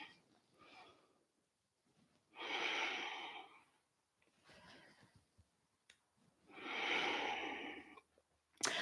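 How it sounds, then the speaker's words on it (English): Deep breathing at the end of a standing workout cool-down: slow audible inhales and exhales, two long full breaths with softer ones between, close and fairly quiet with no talking. "And we'll finish with 3 big breaths."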